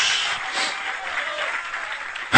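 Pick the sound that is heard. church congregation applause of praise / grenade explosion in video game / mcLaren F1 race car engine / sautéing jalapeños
church congregation applause of praise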